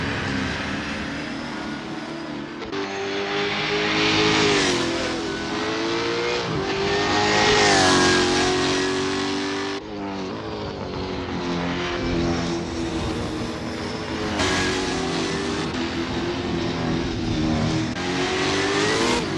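A V8 Supercar in Assetto Corsa heads out on track at Albert Park Circuit, its loud, continuous engine drone rising and falling through revs, with brief dips at gear changes and no talking.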